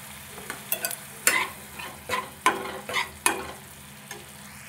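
Spice paste with coriander and cumin powder for pumpkin curry being fried and stirred in a pan: several distinct scraping strokes over a soft background sizzle, loud and close.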